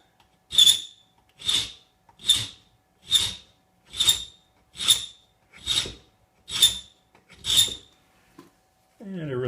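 A triangular file rasps across a steel knife blade in nine even strokes, each a crisp, close scraping pass with a short pause between.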